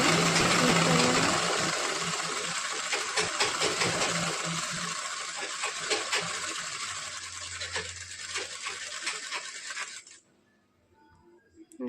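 Sewing machine running a single line of stitches along a half-inch folded hem on a katori blouse, a fast steady whirring rattle up close that stops abruptly near the end.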